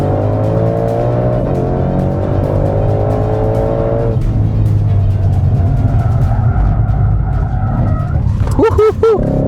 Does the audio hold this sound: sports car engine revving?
yes